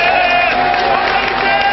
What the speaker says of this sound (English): There's a cheer for Sunday Elise